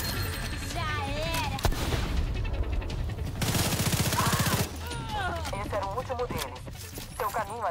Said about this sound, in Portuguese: Não, tem dois caras me atirando aqui.